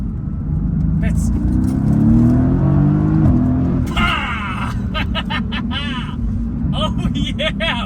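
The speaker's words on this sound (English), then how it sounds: "This is my first time driving this car fast." A sports car is driven hard, its engine loud and close as it accelerates with rising, sweeping pitch. Voices speak inside the cabin over the roar in the later seconds.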